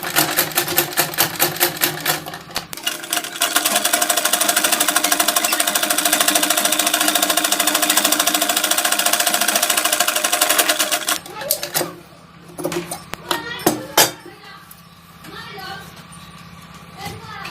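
A sewing machine runs steadily and loudly at close range, stitching small fabric scraps into a back design. It then slows to short, uneven bursts while someone speaks.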